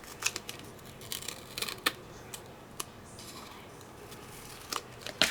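Scissors trim a piece off a cut craft die panel up close, giving a series of sharp, irregular snips and crisp paper rustles at a quiet level.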